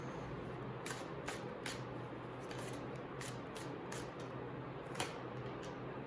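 Tarot cards being shuffled by hand in a steady run of soft riffling and slapping, with quiet crisp card snaps at close range and no voices.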